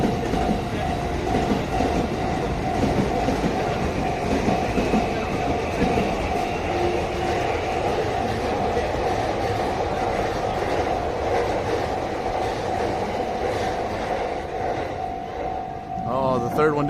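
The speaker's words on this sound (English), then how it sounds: "Oh, there's 2 trains crossing right now." Two trains cross each other in Japan with a close, heavy, continuous rumble and wheel clatter plus a steady tonal whine, easing slightly near the end while a voice talks over it.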